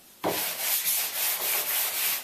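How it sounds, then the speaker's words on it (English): A sanding sponge rubs across a door surface before painting, producing quick, close back-and-forth scratchy strokes in an even rhythm right after a sudden start. "give the door surface a hit with the sanding sponge."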